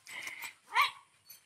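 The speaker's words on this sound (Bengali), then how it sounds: "বাবা কতগুলো গরুর পিছু নিয়েছে কুকুর দেখো" A dog gives a couple of short, moderately distant barks and a yelp while chasing cows, with quiet gaps between the calls.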